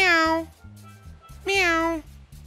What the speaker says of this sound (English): A cat says, meow, meow.